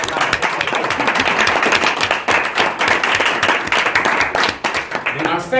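Audience applause at a Toastmasters meeting, a sustained round of brisk clapping from a small group that runs nearly six seconds before tapering, with a voice heard over it at the end.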